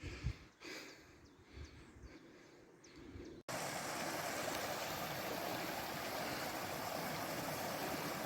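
Steady rushing river water near Orglice waterfall in Slovenia, starting with faint footsteps and breathing outdoors, then abruptly becoming a loud, close, continuous broadband roar of flowing water.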